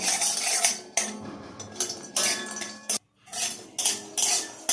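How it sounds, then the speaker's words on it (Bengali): Bori, sun-dried lentil dumplings, being fried in a wok, with bursts of scraping and clinking from a spatula against the pan in irregular clusters, close and fairly loud, with a short silent gap partway through. "সেই বড়িটা একটু ভাজা ভাজা করে নেব।"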